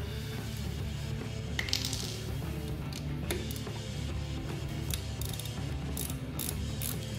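A 3/8 ratchet on a socket loosens a transmission bolt on a 2020 Harley-Davidson Street Bob, giving rapid, continuous close-up pawl clicking over a dense mechanical background with a few sharper metallic ticks.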